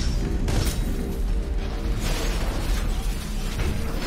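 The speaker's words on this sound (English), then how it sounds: "That was a huge explosion," An explosion in the Titanfall 2 video game, heard as a few heavy booms and bursts over a rumbling, crackling mechanical background, fairly loud and without talk.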